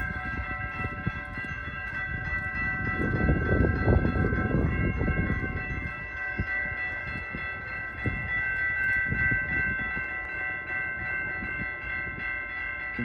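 A stopped CN freight train sits at a road crossing, and a steady tonal hum, likely crossing bells or an idling locomotive, carries over low rumbling throughout.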